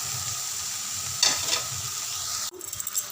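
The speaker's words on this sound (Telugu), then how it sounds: "ఇప్పుడు ఉడకబెట్టి పక్కన పెట్టుకున్న చిక్కుడుగాయలు వేసి బాగా కలపాలి" Boiled broad beans are stirred into a sizzling tomato curry, a steady frying hiss with a burst of spoon-scraping stirring in the middle, then a sudden drop and a few clinks as the pan settles.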